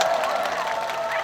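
An audience at an apple festival stage breaks into applause, a dense, steady wash of clapping from a crowd, brief and fairly near.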